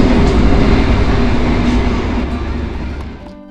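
An executive-class passenger train on the Jakarta to Jogja route rolls along with a loud, steady rumble and rattle heard from inside the carriage, easing slightly toward the end.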